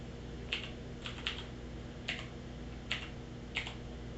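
Keys tapped one at a time on a computer keyboard, about eight clear, spaced clicks at close range over a faint steady hum, with no voices.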